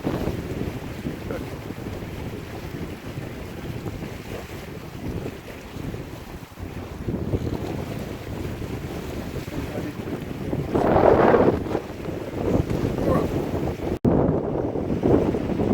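Strong wind of over 20 knots roars steadily over a sailboat at sea in rough water, with constant loud buffeting against the microphone and the wash of waves beneath.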